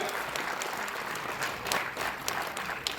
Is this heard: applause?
yes